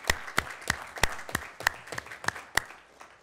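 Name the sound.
applause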